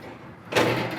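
The front shelf of a Coyote built-in pellet grill swings open with a single soft thump and a brief rushing scrape, close and fairly quiet.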